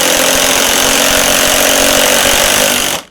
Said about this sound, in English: you can also drive just regular screws with it